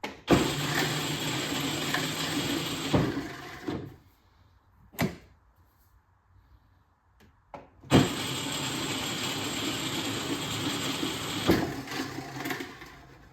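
A small electric motor in a Power Wheels Barbie Ford Mustang ride-on toy car whirs steadily with a buzzing mechanical drone as the rear wheel spins, stops for a few seconds of near silence with a couple of clicks, then revs up again.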